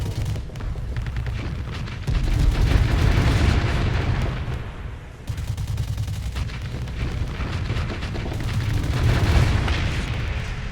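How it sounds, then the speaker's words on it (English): Ship weapons firing in the space game Starsector, a dense continuous barrage of booming shots and explosions, loud and steady with one brief dip midway. "I'm just gonna keep firing on this thing"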